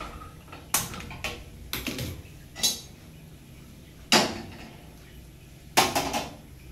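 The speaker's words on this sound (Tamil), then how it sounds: "இப்போ முதல்ல ஸ்டவ் பற்ற வச்சுக்கலாம்." A gas stove igniter in a home kitchen gives sharp, close clicks, about seven of them, spaced irregularly over several seconds against a faint background hum.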